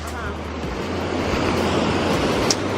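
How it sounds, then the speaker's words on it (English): The Boulder River in Montana rushes past in a dense, steady roar of fast water, close by and loud, with a low engine-like hum at the very start. "This river's out of control."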